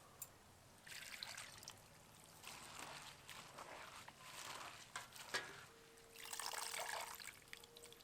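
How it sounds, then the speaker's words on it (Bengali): Cabbage being rinsed under water in a kitchen, faint trickling and splashing in soft bursts with dripping between them, ending with a thin steady tone near the end; no one speaks. "বাঁধাকপিটাকে জল দিয়ে ভালো করে ধুয়ে নেব।"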